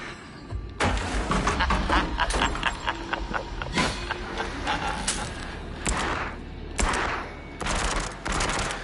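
Special weapons firing in the video game Switchback, with rapid automatic bursts and single shots alongside thumps and clanks, loud and close with brief pauses between volleys.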